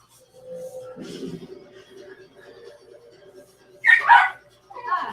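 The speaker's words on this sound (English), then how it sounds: "That would be my dog." A dog whines and yips in the background, then gives a couple of sharper barks near the end, with a person talking.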